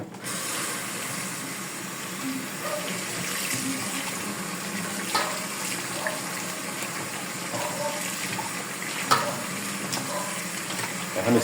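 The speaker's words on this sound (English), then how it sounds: "You're gonna add water." Water poured into a cooking pot of stew makes a steady running, splashing wash, with faint clinks and knocks of the pot at moderate distance and no talking.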